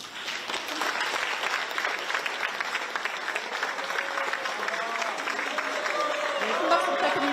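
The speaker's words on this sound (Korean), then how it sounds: "한 분 한 분 소개해 드릴 때마다 뜨거운 박수 보내주시기 바랍니다" Warm, sustained audience applause at a government workshop as officials are introduced, a steady wash of clapping with a voice speaking faintly underneath near the end.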